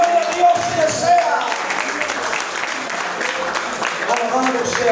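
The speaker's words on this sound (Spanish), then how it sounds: "¡Aplauda a Jesucristo!" A church congregation applauds during an evangelical service, a steady wash of clapping and crowd noise held at a constant level throughout, with shouted voices and excited vocal tones rising over it.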